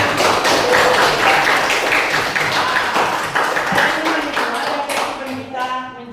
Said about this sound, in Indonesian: tepuk tangan untuk keduanya